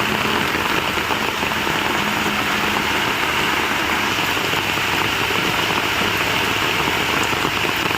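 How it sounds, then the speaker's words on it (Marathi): Heavy monsoon rain in the Konkan countryside, falling around a home garden in a loud, dense, unbroken roar, with a faint low engine-like hum underneath and no speech. "पाऊस भरपूर आहे"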